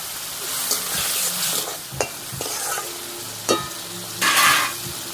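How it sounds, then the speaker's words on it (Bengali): A spice masala of cumin, coriander powder, salt and turmeric fries in a pan for a duck egg and elephant foot yam dish, with a bright sizzle broken by several sharp spatula scrapes and knocks, no talking. "দিয়ে মশলাটা কিন্তু ভালো করে কষিয়ে নিতে হবে।"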